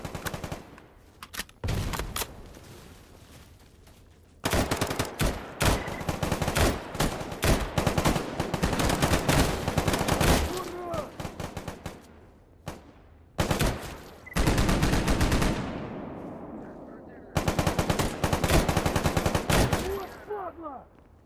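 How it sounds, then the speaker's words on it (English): Rapid automatic gunfire in the shooter game STALKER GAMMA comes in several loud, close bursts of fast shots separated by short quiet gaps, with faint voice at times. "The issue with this gun is it shoots too fast. Sometimes I only want to shoot 1 bullet, but it shoots 2 anyway, because of the fire rate."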